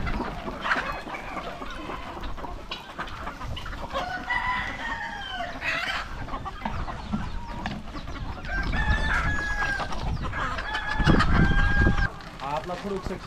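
Chickens cluck and crow at a native-breed poultry farm, a dense, busy flock heard close with steady calls throughout and louder bursts toward the end; no talk.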